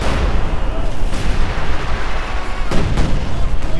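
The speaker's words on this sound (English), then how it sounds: "Howitzer's firing away here, trying to catch the mortars" Howitzer artillery fires in the Company of Heroes 2 video game. Heavy booms punch through a loud, unbroken wall of battle noise.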